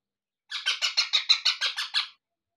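Baby parrots being hand-fed give about ten rapid, evenly spaced begging chirps, close and clear, in a single short burst.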